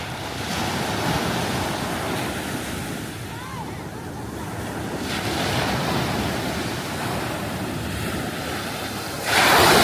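Ocean waves wash onto a beach in Zambales in a steady rushing surf, with heavy wind buffeting the microphone and faint voices in the background.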